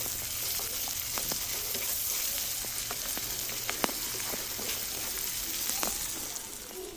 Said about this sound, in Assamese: পুনৰ ভাজি আছোঁ।